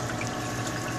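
A MaxiJet 1200 pump pushes water into a surge device on a 75-gallon reef tank, a steady close rushing and gushing wash of water that fills the moment without break.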